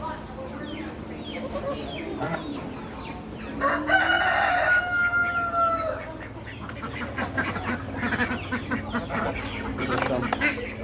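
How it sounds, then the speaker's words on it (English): A big duck calls among other poultry at a critter auction, its quacks mixed with rooster crowing and clucking nearby while people talk over the steady barnyard din. "So got this big duck here. One big duck."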